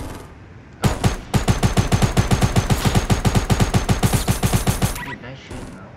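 Rapid automatic gunfire in the Fortnite battle royale game rattles out in a long, steady burst of evenly spaced loud shots, with a few single shots before and after.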